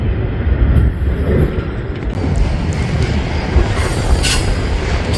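A freight train passing at Rochelle, Illinois, with a steady roar of rolling wagons, rumbling wheels and high metallic wheel squeal, loud and close, continuing without pause.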